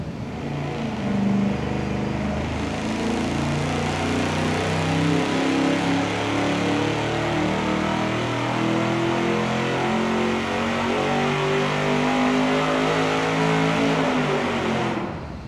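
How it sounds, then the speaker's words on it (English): A V8 engine running on a dyno with dual exhaust and turbo mufflers roars steadily and loudly at high revs for about fifteen seconds before cutting off sharply, with no talking. "we're gonna fire it up, warm it up to 130 degrees of water temp"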